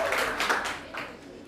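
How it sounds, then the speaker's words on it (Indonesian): A classroom of students clapping for a group after its presentation, a brief burst of dense, close applause that thins out over about a second and a half. "tepuk tangan untuk kelompok bagian mengapa"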